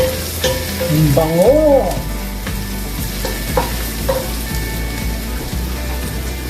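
Onions sizzle steadily in a hot pan while being stirred, with scraping clicks of the utensil over a continuous frying crackle; a voice speaks briefly early on.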